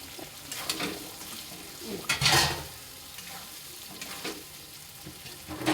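Potatoes dropped into a cooked-down shrimp masala and stirred in the pan, giving soft sizzling with a few louder scraping bursts, close and moderately quiet, with no talk over it.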